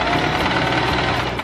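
Sewing machine stitching a top made from Nike socks, running loud, close and continuous with a rapid, even mechanical chatter before stopping abruptly at the end.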